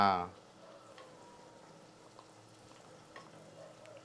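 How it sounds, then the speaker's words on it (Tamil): A thick chicken thokku sauce bubbles and sizzles steadily in a pan over high flame, a low continuous crackle after a short voice at the very start. "இப்போ சிக்கன் தொக்கு பாருங்கள் நல்லா கொதிக்குது"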